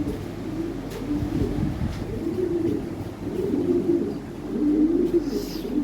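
Soft, low coos of Lahori Sherazi pigeons repeat in gentle rolling phrases nearby, with faint rustling and background noise.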